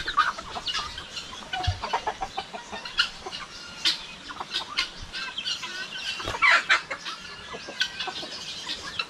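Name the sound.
guinea fowl calling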